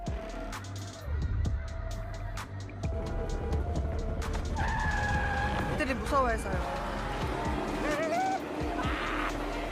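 A school bus in a Korean drama is driven recklessly, with loud squealing tires and engine noise sweeping across the clip while raised voices cry out over it.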